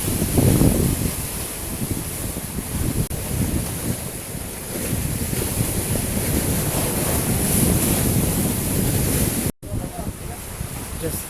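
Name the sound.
rough sea waves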